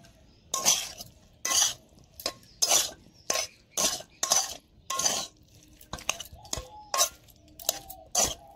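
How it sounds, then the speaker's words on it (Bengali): Spiced potatoes with coriander and chili powder are mixed by hand in a bowl. About a dozen rhythmic scraping strokes sound close up, each a short bright rasp with brief pauses between them, with no talking. "এবার আমি আলুগুলোকে ভালো করে মিশিয়ে নেব।"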